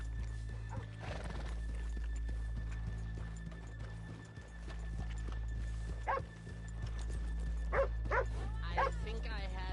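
Horses in Red Dead Redemption 2 clip-clop at a walk, steady hoofbeats close by, with a whinny and barking dogs around them and people talking over the scene.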